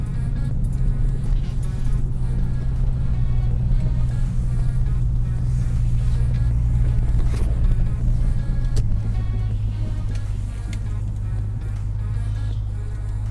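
Ford Mustang driving, its engine a steady, loud low drone heard from inside the car, dropping slightly in pitch partway through as it cruises along without talk.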